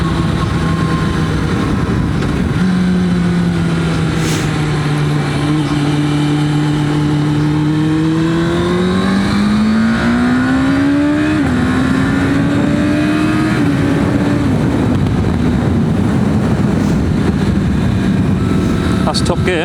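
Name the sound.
Suzuki SRAD motorcycle accelerating through gears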